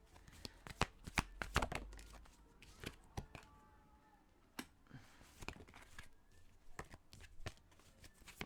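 Oracle cards are shuffled and drawn up close, giving quick rustling riffles and sharp card snaps in irregular bursts with quieter handling between them.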